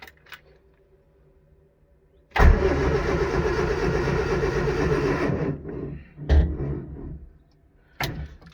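A Morris Minor car with a newly replaced gearbox is cranked in first gear with the clutch down. The engine turns over loudly for about three seconds and cuts out, followed by a couple of short mechanical knocks and clunks, close by.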